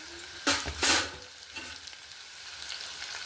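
Cashew pieces for pongal crackle briefly in hot oil in a pan, two short loud bursts of frying noise near the start, then a faint low sizzle.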